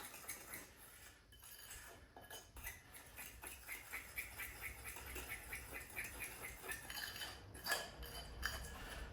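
Buckwheat being mixed in a bowl with a four-pronged fork, making continuous quiet scraping and tapping clinks in an irregular rhythm, close and faint.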